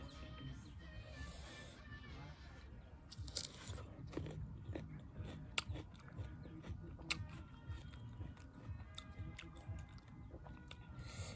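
Close crunchy bites and steady wet chewing of orange and apple, a dense run of crisp snaps and mastication with no clear talk over it.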